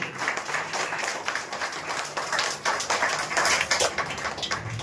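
Loud, dense applause from an audience at an honors ceremony for a student, steady clapping filling the whole stretch with no voices over it.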